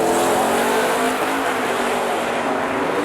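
A bright yellow Buick Grand National drag racing down the quarter mile at an LS Fest event roars at full throttle, a loud continuous engine howl with crowd and track noise mixed in throughout.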